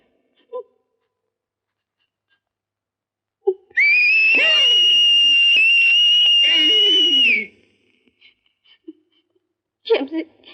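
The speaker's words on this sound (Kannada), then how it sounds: "ಇದು ಸಂಕಟದ ಸೀಟಿ." A person whistles one long, loud, high sustained note for a few seconds, wavering slightly in pitch, with short quiet sounds before and after.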